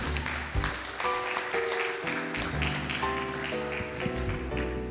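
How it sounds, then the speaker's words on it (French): An audience at a Sunday Mass applauds, steady clapping spread over several seconds with a few tonal sounds behind it. "On l'applaudit, s'il vous plaît."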